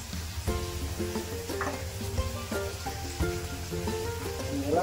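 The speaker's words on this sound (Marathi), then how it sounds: "थोडंसं जिरं टाकायचं आणि जास्त नाही पाहिजे." Cumin seeds sizzle and crackle in hot oil in a home kitchen pan, a close, steady fizzing with scattered pops and faint tonal clinks of utensils against the pan throughout.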